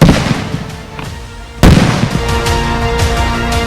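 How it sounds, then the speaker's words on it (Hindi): A sudden heavy blast from a bomb explosion in ITBP women commandos' training at Panchkula, loud and near, breaking through a steady rumbling din and leaving a lingering roar. "बम से हमले।"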